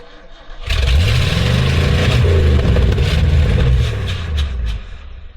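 A 1970s ramp truck engine fitted with HEI ignition cranks and catches, then runs roughly with uneven revs for several seconds, loud and close, before dropping back near the end.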